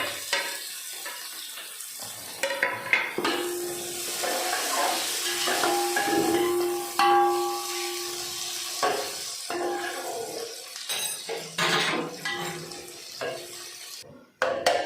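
Cabbage, carrot and capsicum frying in a pan for Sindhi chicken vegetable biryani, a steady sizzle with stirring scrapes and clatter, a brief hiss of steam midway and a sudden cut near the end.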